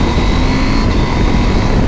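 A KTM 890 Adventure motorcycle engine pulls hard under acceleration, a loud, close, continuous rasping roar with a steady tone and no talk over it.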